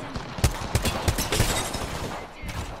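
Gunfire in the online battle royale game Apex Legends, a quick run of about four sharp shots followed by rattling bursts, with a player talking over the action.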